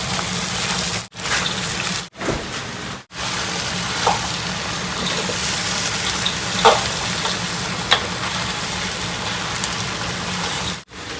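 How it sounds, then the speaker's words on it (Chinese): Crayfish stir-fried in a wok at home give a loud, steady oil sizzle with scraping stir strokes, broken by a few brief silent cuts, with no talk. "量多煸炒一会儿哈。"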